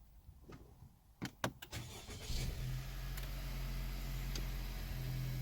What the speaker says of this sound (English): Now we'll start the vehicle by pressing on the brake and pressing that